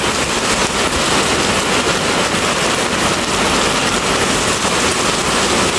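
A heavy early-season downpour in Phụng Hiệp, Hậu Giang, makes a dense, unbroken roaring hiss. It stays loud and steady throughout.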